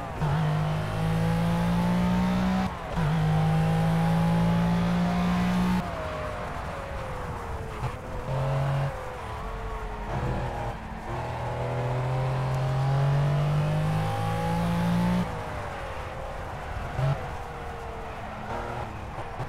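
Race car engine in Project Cars, a racing video game, revving hard through repeated gear changes, loud and continuous with brief lifts between pulls.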